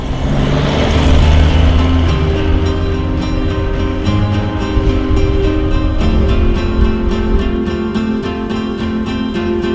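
An Opel GT two-seater runs along a winding mountain road, its engine droning steadily and shifting pitch through the bends under constant road and wind noise.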